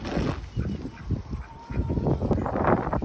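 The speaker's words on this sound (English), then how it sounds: "The ducks are excited." Excited ducks at a backyard duck pond being refilled in a Texas garden call in a loud, close burst of honking quacks, several birds overlapping in uneven pulses.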